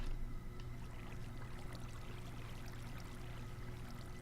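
Water flowing in Minecraft gives a steady, faint rushing and trickling wash that runs unbroken and even throughout, with no voices.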